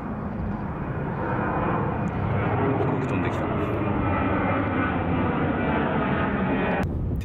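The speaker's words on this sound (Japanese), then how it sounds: "飛行機飛んでるしね" An airplane passes near Haneda Airport at night, a broad continuous engine rumble sustained across the whole stretch, with faint voices and small sounds over it.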